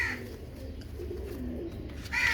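Soft, low cooing of Royal Teddy pigeons rises and falls in the background, with a brief higher chirp at the start and end.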